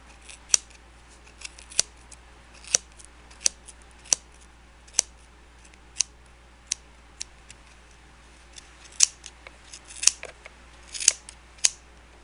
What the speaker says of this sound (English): slide your scissors up that groove and snip your yarn